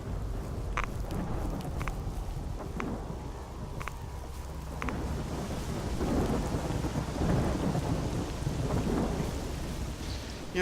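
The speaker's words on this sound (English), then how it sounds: "I'm just walking around watching the rain not hit me" Steady rain and rumbling thunder from a video game thunderstorm, a dense continuous wash of rainfall with deep rolling thunder swelling beneath it, with no talk.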